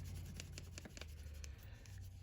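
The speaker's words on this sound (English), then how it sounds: "I'm just rubbing the crayon on the cardboard pieces, trying to hold the paper in place there." Crayon rubbed on paper laid over cardboard pieces, a soft continuous scratchy rasp with quick back-and-forth strokes, close and faint, no talk.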